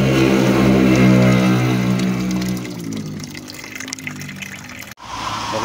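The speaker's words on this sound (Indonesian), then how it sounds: "Sampai bersih pokoknya, cuci lagi." Water gushes and splashes while ketapang leaves are rinsed, loud and close at first, then easing into quieter sloshing before a brief cut and renewed pouring.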